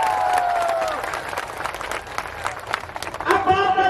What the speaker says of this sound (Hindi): एक बार जोरदार ताली बजानी तो इनके लिए बाबा।